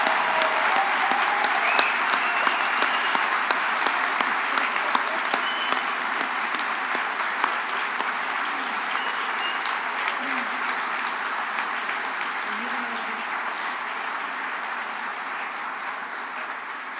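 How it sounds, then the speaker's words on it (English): Sustained audience applause fills a university teacher education convocation hall, a dense even clatter of many hands that holds steady and tapers slightly toward the end, with no talk over it. "Now it's time to applaud."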